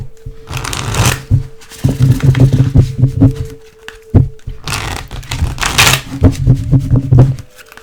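Dreams of Gaia tarot cards being shuffled by hand in two loud bursts of rapid riffling and flapping, separated by a short pause, with crisp card taps close up.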